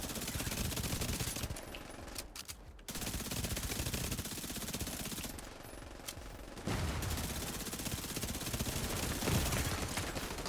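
Turret gunfire in a video game, a long continuous rattling barrage of rapid shots that stays dense and steady for several seconds, briefly thinning before resuming at full intensity.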